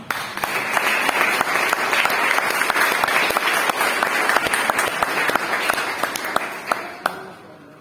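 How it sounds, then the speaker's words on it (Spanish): A church congregation applauds during a sermon, giving sustained, loud clapping with distinct sharp claps standing out from the crowd wash, then tapering off toward the end. "Denle un aplauso al Señor."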